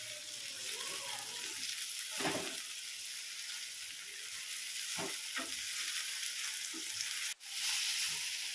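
Pirandai (adamant creeper) sautés in oil in a pan, giving a close, steady sizzle and crackle broken by a few stirring scrapes and clatters, with no one talking.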